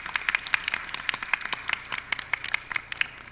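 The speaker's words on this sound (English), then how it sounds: "So if I could please, everybody, big round of applause." Audience clapping at a Senate subcommittee hearing on profession and licensure, a moderately quiet, irregular patter of individual claps from a small group of attendees.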